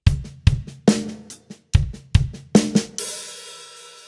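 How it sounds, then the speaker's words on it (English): Rock drum groove, played closely with steady kick and snare hits, then the hi-hat opens on the and of 4 and rings out as a long sizzling wash at the end, without any talk. "We're gonna continue that groove all the way through the bar, and we're just gonna open the hi-hat up on the and of 4."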